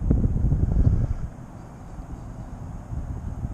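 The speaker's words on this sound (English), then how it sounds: "but it's a cold wind." Cold wind rumbles against the microphone outdoors during a drone's flight, loud gusts in the first second easing to a softer, steady blow before rising slightly again at the end.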